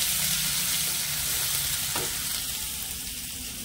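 Prawns fry with turmeric in a pan, making a dense continuous sizzle close up. A brief scrape of the spatula comes as they are stirred, with no voices over the frying.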